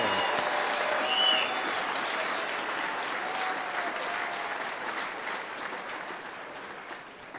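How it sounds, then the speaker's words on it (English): A large crowd applauds at a football Hall of Fame induction ceremony, loud and full at first, then slowly fading as the clapping thins out toward the end. "So why don't you all give yourselves a round of applause"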